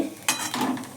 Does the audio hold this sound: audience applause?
no